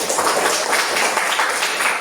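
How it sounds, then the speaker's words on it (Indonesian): Pupils applaud together in a classroom, a brief, dense burst of clapping, loud and close, with no talk over it. "Betul, tepuk tangan."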